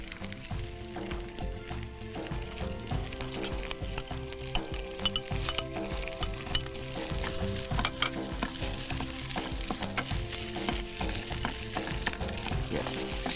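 Sliced onion sizzling in butter with garlic paste and chilli, a steady dense crackle of frying that holds at an even level throughout with occasional louder pops and no voices.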